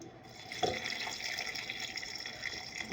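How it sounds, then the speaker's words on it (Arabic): Cold water running from a tap into a cooking pot for a Ramadan harira soup, a steady close splashing pour with a brief louder gush near the start. "ندير لهم ماء بارد عادي ونديرهم على النار يطيبوا"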